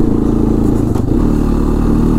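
Honda 300 Fourtrax 4x4 ATV engine runs at full throttle climbing a hill, a loud, close, steady low drone with a throbbing rhythm and a brief rattle midway.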